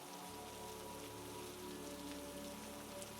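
Steady rain falling outside a cabin, an even, dense hiss of drops on surfaces that continues without pause, soft and constant with no voices.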